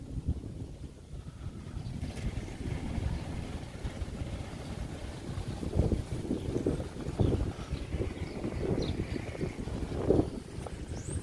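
Expresso Golfinho, a motorboat that carries passengers, runs on choppy water off Soure on Marajó Island, Pará. Its low engine drone rumbles steadily and is partly masked by gusts of wind on the microphone, with no voices.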